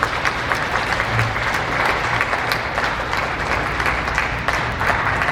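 Sustained applause from an audience at a 74th Liberation Day commemoration ceremony, many hands clapping at an even, continuous level for over five seconds, with faint low murmuring underneath.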